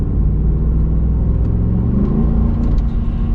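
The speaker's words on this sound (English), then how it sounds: "this is definitely solid from an acceleration standpoint" A 2020 Ford F-250 pickup with the 7.3-litre gas V8 accelerates from inside the cab, giving a steady, loud, low engine rumble that builds slightly with road noise, with no talking.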